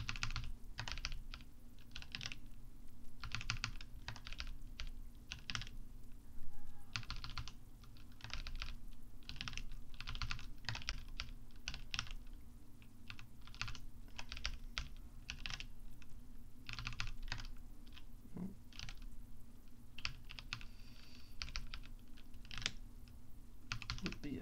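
Steady typing on a computer keyboard during a C livecoding session, with quiet, close key clicks in continuous uneven bursts over a low background hum.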